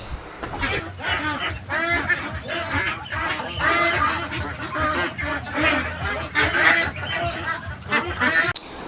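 Ducks on a farm kept on a raised platform with water nearby, a dense chorus of loud nasal quacking and honking calls overlapping almost continuously, close by.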